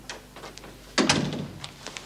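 A door slams shut with a sharp thud, followed by a brief ringing rattle as it settles against faint quiet room sounds.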